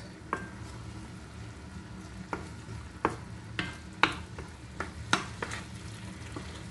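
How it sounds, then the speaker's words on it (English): Tomatoes being crushed in a pot of cooking tilapia stew: a low simmering sizzle broken by irregular sharp taps and scrapes of a utensil against the pan, close up and without talk. "I'm gonna crush the tomatoes so they become soft."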